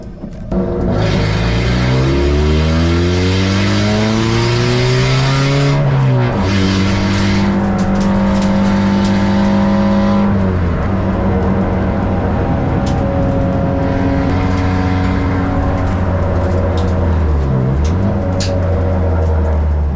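A race car idles through slow first laps on a track, its engine droning loudly and continuously with rising and falling pitch as it shifts through gears, close and unbroken with no talk.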